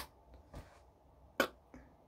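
A voice makes a mouth imitation of a clap: a few short, sharp clicks and pops, the loudest one near the end, in an otherwise quiet room.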